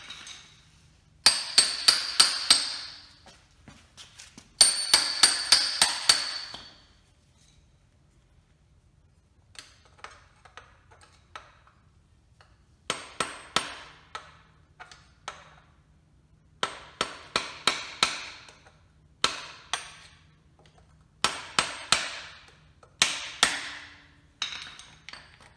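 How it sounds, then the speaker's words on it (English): Hammer tapping the rear axle out of a 2019 KTM 85 SX dirt bike: bursts of rapid metallic strikes in clustered series, loud and close, separated by short pauses over a quiet background. "Now I'm going to tap the rear axle out."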